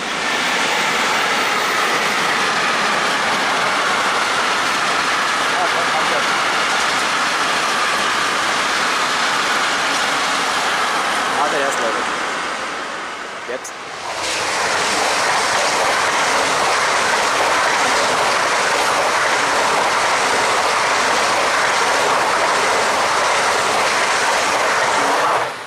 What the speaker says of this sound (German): Der Deutschland ICE.